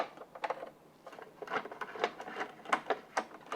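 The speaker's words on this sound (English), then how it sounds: "we need to take this cover off using our number 3 fillet screwdriver" A number 3 fillet screwdriver works the cover off a Minn Kota Ulterra trolling motor, producing a quick series of close, light plastic clicks and scraping ticks in uneven bursts.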